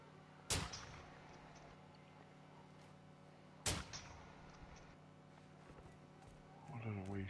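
Two sharp, distant-sounding gunshots in the Warzone DMZ video game, about three seconds apart, set against a low steady game ambience, with a voice starting at the end.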